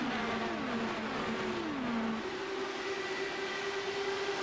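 Open-wheel race cars speed toward the finish line side by side at a season-finale race at Rancho Cucamonga, their engines a loud, steady roar with pitch sweeping down as they pass, then holding a sustained high drone.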